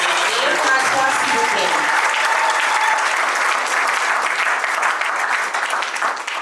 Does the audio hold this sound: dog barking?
no